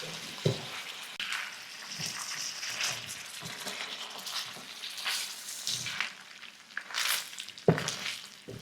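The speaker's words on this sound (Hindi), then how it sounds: "अब गोश्त को लहसुन अदरक के साथ 1 से 2 मिनट के लिए भून लें" Beef fries with garlic and ginger in a karahi, a moderate sizzle broken by stirring clatters and scrapes, with brief louder bursts of hissing and occasional spoon knocks.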